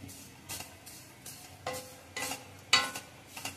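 Vermicelli roasting in ghee in a pan for shevaya upma, with soft sizzling under a steady rhythm of scraping stirs about every half second, close and moderately quiet.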